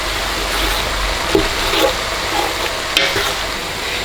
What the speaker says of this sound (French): On remue à nouveau notre marmite.